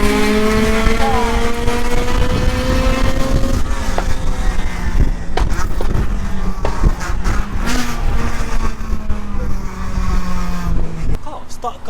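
A modified Honda Civic Type R with a decat and straight-pipe exhaust accelerates hard nearby, its loud raspy engine note climbing through the revs with a brief dip at a gear change, then pulling again before cutting off abruptly.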